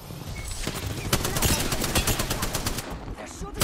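Apex Legends gunfire crackles in rapid automatic bursts, dense and loud, with overlapping shots from close and mid range filling the whole stretch, while a voice speaks briefly over it.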